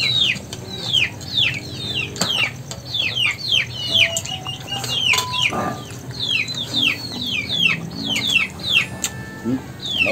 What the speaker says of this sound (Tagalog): Maingay yung mga sisiw ko